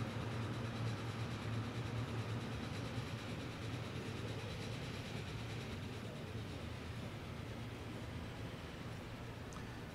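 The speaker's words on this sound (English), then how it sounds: "I would like to put one more train on the line." A train runs in Transport Fever, a railway management game set around 1907 on a European map, as a steady, moderately faint rumble and clatter that continues unbroken throughout.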